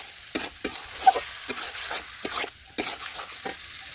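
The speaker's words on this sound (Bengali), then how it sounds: "কষানো হয়ে যাওয়ার পরে চিংড়ি মাছগুলোও দিয়ে দিলাম, এটাও ভালোভাবে মিশিয়ে নিচ্ছি" Shrimp are stirred into a thick green jackfruit curry in a pan, with a soft sizzle beneath a series of distinct scraping strokes of the spatula, about eight in a loose rhythm, close and moderate.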